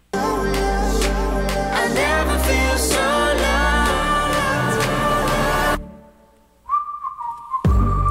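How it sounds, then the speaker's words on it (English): Someone whistles a bright, fluid melody over a full musical backing, then the music drops out and a single sustained whistled note follows. "shout out to anybody that can actually whistle like that"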